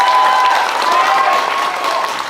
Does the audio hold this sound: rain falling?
no